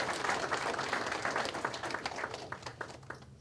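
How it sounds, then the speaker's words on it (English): Audience applause at a celebration-of-life memorial gathering, a dense sustained clapping from a crowd that slowly thins and becomes more scattered toward the end, with no talk over it. "Let's give them applause again."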